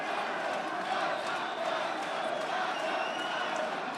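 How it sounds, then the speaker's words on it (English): Crowd at a boxing match rumbles and swells into a steady, distant roar of voices, with commentary talk running over it. "The crowd seemingly finding its voice as we hit the 2-minute mark"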